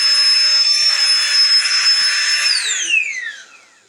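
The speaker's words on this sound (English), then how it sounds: "There's your fan on that one." A budget electric air pump's fan whirs steadily and loudly with a strong hiss, running alone before its pitch sweeps downward and it winds down toward the end.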